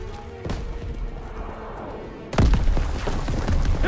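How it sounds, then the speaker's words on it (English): A grenade bursts in a Call of Duty WW2 World War II campaign battle, a sudden loud boom partway through that cuts in over a low rumble of background combat and lingers as a dense, noisy tail. "Grenade out!"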